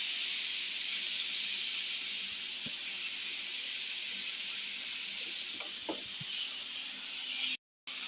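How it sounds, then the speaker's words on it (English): Compound butter melting and sizzling on ribeye steaks, a steady close frying hiss with a few soft pops and clicks, no voices over it, cutting out abruptly near the end. "look at that butter melting on there"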